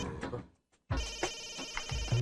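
Mobile phone ringing unanswered in a tense film scene, its electronic ringtone cutting out briefly to near silence and then resuming, fairly close and clear.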